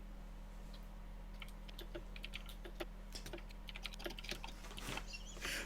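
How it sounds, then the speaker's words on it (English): Typing on a computer keyboard, a quiet irregular run of light key clicks with a brief faster burst near the end, heard softly over a low steady hum. "Oh yeah, you can hear a keyboard."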